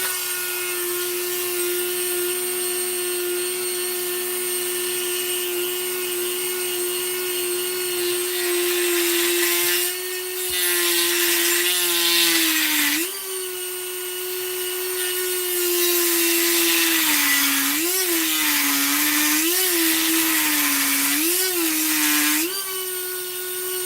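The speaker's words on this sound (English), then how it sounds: "See what I do with the Dremel tool." A Dremel rotary tool carving a hand-made Swedish wooden butter knife whines at a steady high pitch close up, dipping briefly as the bit bites into the wood and grinds with rough scraping bursts.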